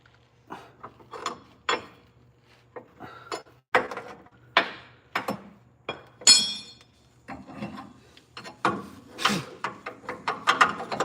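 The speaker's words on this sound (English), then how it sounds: "This son of a gun is sharpening his claw." A cat sharpens its claws, raking them in short, scratchy strokes that come in irregular bursts. The scratching is close and fairly clear against a quiet background.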